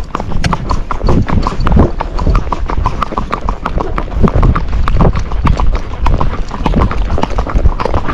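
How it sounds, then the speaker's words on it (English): Hoofbeats of a trotty Tennessee Walking Horse under a rider, a steady, loud clip-clop running through the whole stretch in quick even rhythm, close by, with faint other sound around it. "You're on a trotty horse."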